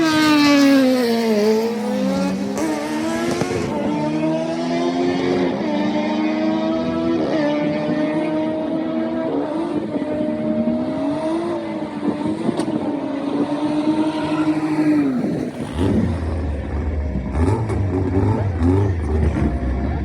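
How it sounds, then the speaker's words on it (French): A small Suzuki Carry kei truck fitted with a Kawasaki engine screams through its gears on a drag strip, loud and close, with rising engine pitch that drops at each shift across repeated upshifts, ending in a rougher roar. "j'ai réussi à filer la GoPro au conducteur du petit Suzuki Carry avec un moteur de Kawasaki dedans"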